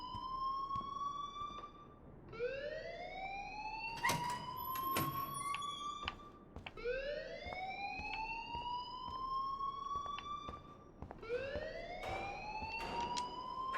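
An alarm in the video game Life Is Strange repeatedly wails upward in rising, siren-like sweeps, about three loud cycles with brief gaps between them and no speech.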